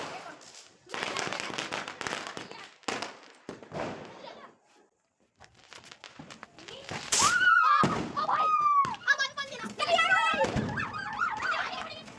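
A firework rocket bursts during a festival near homes, giving sharp, loud cracks and pops in scattered clusters, followed by whistling streaks and further crackling, with people talking and calling out in the background.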